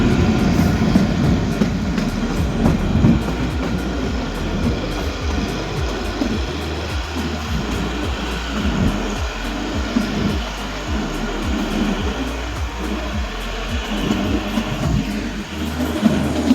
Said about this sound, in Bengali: এখন আমরা ডিজেল লাইন দিয়ে পাহাড়ের মুখ চিরে ঝিকঝিক করতে করতে এগিয়ে চলেছি সিমলার দিকে।